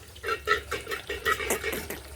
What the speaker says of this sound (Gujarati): પાણી બધું ભૂઈ ઢોળે છે ને હાથમાં લીધું નહીં મોઢું ધોવું છું